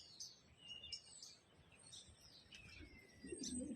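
Small pet birds kept at home among chickens, chirping in thin high tweets and short calls scattered throughout, fairly faint, with a soft cooing note near the end.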